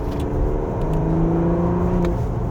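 A Porsche Panamera Turbo S E-Hybrid accelerates in Sport Plus mode, giving a steady, loud engine drone with rising tonal whine that stays close and continuous with no talk.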